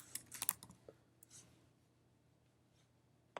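Someone types a search on a computer keyboard, a quick burst of crisp key clicks followed by quiet and one last tap, faint and close, with no talk.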